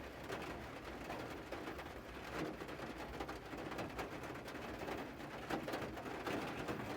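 Light rain patters in a steady, crackling hiss for several seconds, with birds cooing softly in the background and no one speaking.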